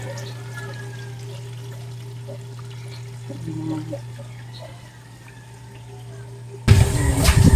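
A steady low hum and faint murmuring run underneath, then stored water suddenly pours into a fish tank in a loud, splashing gush near the end.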